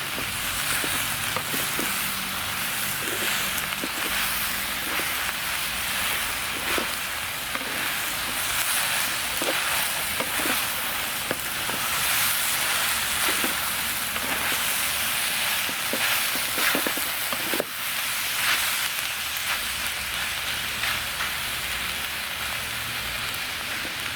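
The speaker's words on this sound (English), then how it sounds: "And let's give this lot a stir round." A jerk stir fry is stirred in a pot over a twig stove outdoors, making a constant crackling sizzle with faint scraping and stirring clicks, close and without talk.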